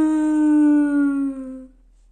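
A puppy gives a single drawn-out, howl-like whine while its belly is scratched, a clear tone held for about a second and a half before fading out, with no talk over it.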